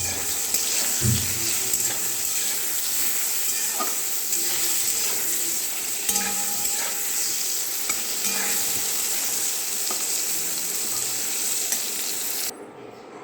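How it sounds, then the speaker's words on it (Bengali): Eggplant slices fry in a pan with salt and turmeric, a steady close sizzle running throughout with occasional stirring clicks and scrapes. "দেখো এই বেগুন ফ্রাই হচ্ছে"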